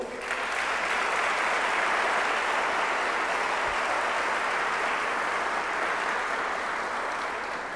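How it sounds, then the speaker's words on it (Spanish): Applause from a large audience at an international image festival ceremony, a loud sustained roar of many hands clapping that stays full and even for several seconds. "Un aplauso, por favor."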